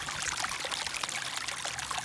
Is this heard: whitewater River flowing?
yes